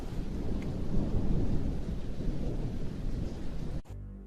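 Heavy rain pours steadily with rolling thunder in a continuous loud roar, cutting off abruptly near the end.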